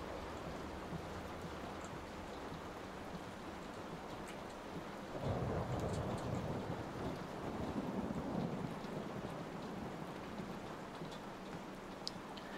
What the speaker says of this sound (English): the storm ever run out of rain?